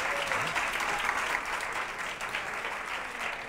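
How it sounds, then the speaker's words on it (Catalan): Studio audience applause on a Catalan TV quiz show, a brief steady burst of clapping from a small crowd, fairly close. "Aplaudiu-la, aplaudiu-la, aplaudiu-la."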